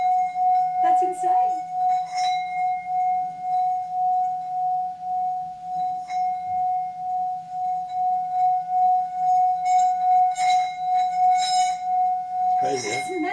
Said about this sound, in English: It's called a singing bowl, and it's I bought it in Vietnam. I think they're Tibetan.